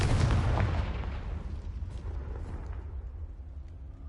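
A Confringo explosive spell in Hogwarts Legacy lets off a loud, close booming blast at the start, then a rumbling low tail that fades slowly over several seconds.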